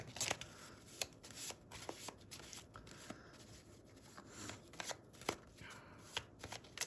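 A deck of playing cards being shuffled by hand, with soft rapid riffles and flicks in several bursts, fairly quiet and close, with no talking.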